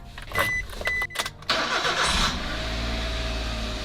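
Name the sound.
Suzuki Every DA64V engine starting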